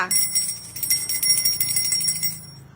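A hand bell rings repeatedly in a bright, metallic jangle during a house-sale price auction in Krathum Baen, Thailand, sounding close and fairly loud for about two and a half seconds before cutting off.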